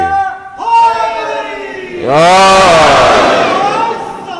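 A crowd at a religious gathering celebrating the birth of Imam Hussain raises loud, sustained chanted slogans in many voices, swelling from a lone call into a full, roaring unison response.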